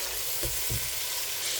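Tomatoes fry with ginger in plenty of oil, giving a steady, close sizzle with a couple of soft stirring bumps.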